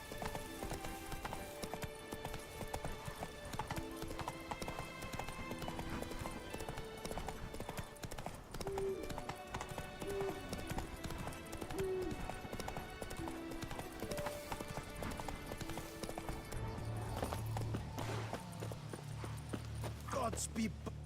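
Horse hooves clip-clop steadily in The Witcher 3 video game, a regular walking rhythm mixed with game music and talk, fairly prominent throughout.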